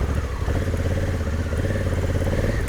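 An adventure motorcycle labouring up a steep, stony mountain track in Argentina, its engine a steady, close, loud drone with rattling clatter from the rough ground.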